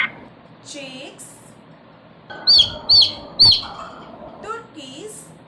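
Chicks cheep in short bursts, a run of three bright peeps in the middle, with a faint voice heard between.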